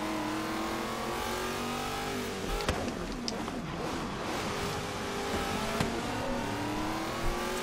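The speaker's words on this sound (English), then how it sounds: "bad idea doing drifts right now" A car drifting in Forza Horizon 3 during a Hot Wheels race: steady engine drone with shifting revs and tire squeal, a few sharp knocks and bumps along the way, no talking over it.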